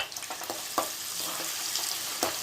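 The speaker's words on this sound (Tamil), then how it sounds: "நறுக்கி வச்சுருக்கிற வெங்காயத்தையும் இதில் சேர்த்து நல்லா பொன்னிறமாக ஆகிற வரைக்கும் நம்ம வதக்கிக்கலாம்." Chopped onions sautéing in hot oil, a constant sizzle broken by a few sharp scraping stirs of a spoon.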